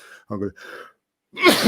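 A single sneeze from a person during a football chat, a sharp loud burst near the end after a brief pause, preceded by fragments of speech.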